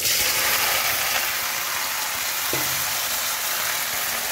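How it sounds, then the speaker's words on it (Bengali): Okra (ladies finger) frying in hot oil in a home kitchen, a steady broadband sizzle that runs unbroken and fairly loud throughout, with one brief utensil clack partway through and no voices. "আমি ভেন্ডিটা একটু ভেজে নিচ্ছি"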